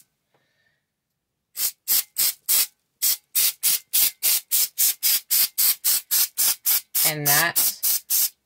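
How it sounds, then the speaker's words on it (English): Repeated short bursts from a paint sprayer applying a faux granite finish to a countertop in a 5th wheel renovation, about twenty evenly spaced close hisses in quick rhythm, with a brief spoken phrase near the start. "just doing a spray and move. I'm not sweeping like this. I'm just splotching."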